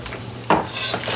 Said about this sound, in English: So I'm going to chop some garlic off.